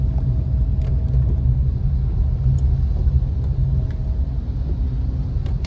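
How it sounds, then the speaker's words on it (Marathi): Sunday road traffic of passing cars, a steady low engine rumble with faint whooshes, continuous and fairly loud with no talking. "आज संडे आहे त्याच्यामुळे थोडी गाड्यांची ट्रॅफिक आहे"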